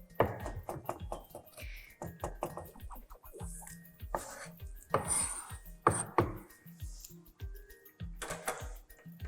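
A sharp knife chops ingredients on a board for chicken korma in a kitchen, giving a rapid run of close, crisp thunks in uneven bursts with a few louder knocks between.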